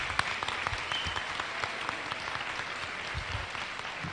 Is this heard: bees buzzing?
no